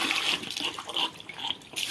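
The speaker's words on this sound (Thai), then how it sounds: "เทน้ำให้กิน แล้วก็เทใส่พื้นน้ำค่ะ" Water splashes and gurgles as it is poured out onto the ground for pigs to drink in a hot, dry backyard garden, a steady close splashing with no talk.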